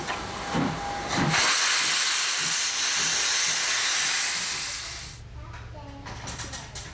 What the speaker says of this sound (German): Pünktlich um 7 Uhr macht sich der Dampfzug auf den Weg nach Miltenberg am Main.